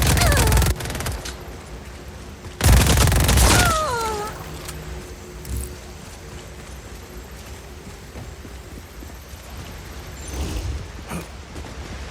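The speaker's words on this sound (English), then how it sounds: "Where are those shots coming?" Bursts of gunfire in the Just Cause 4 video game, a loud volley at the start and another heavy burst near three seconds, then quieter scattered shots and background rumble.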